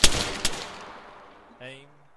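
A rifle volley from a firing line in Arma 3: a sharp near shot followed by a second crack, decaying into reverberation, then a short tonal sound at the end.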